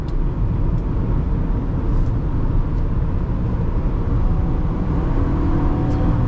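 A 2009 Toyota Camry XLE V6 engine drones loud and close throughout a test drive, a steady broadband roar of revving with no pauses or voices.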